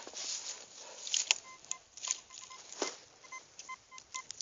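Short electronic beeps and pitched tones from a metal detector chirp intermittently over faint outdoor rustling, with soft scraping sounds of a small shovel between them.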